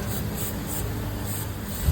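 Cleaner sprayed onto motorcycle brake pads during a change-oil and check-up service, a steady close hiss lasting the whole moment with no pauses.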